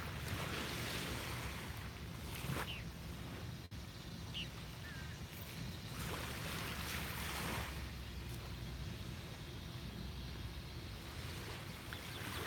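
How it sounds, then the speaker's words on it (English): Ocean waves washing onto a beach on a calm morning, a soft steady surf with faint swells rising and falling, heard quietly over light wind noise on the microphone. "the waves do sound lovely, Sarah."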